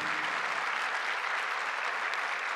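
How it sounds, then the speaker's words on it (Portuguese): Audience at a political gathering with country music artists gives a round of applause, a dense, continuous wash of clapping at a steady loud level throughout. "Uma salva de palmas ao povo brasileiro, ao povo do Brasil"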